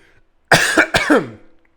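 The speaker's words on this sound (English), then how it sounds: "as my cough won't allow me to continue this" A couple of sharp, raspy coughs close to the mic, followed by a brief throaty trailing sound, then quiet.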